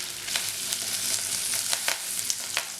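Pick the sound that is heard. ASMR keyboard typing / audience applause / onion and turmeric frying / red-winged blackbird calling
onion and turmeric frying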